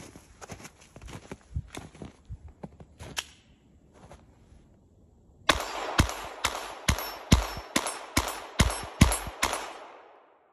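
A Glock G44 .22 pistol fitted with a Nelson Precision slide fires about ten sharp shots at a steady, rapid pace. Quieter clicks and handling sounds come before the shots.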